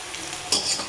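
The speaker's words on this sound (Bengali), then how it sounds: "এই যে একটু তেজপাতা, লবঙ্গ, দারচিনি, এলাচ ফোড়ন দিয়ে দিলাম" Whole spices (bay leaf, cloves, cinnamon and cardamom) dropped into hot oil for tempering, bursting into a sudden bright sizzle partway through that stays loud and crackling to the end.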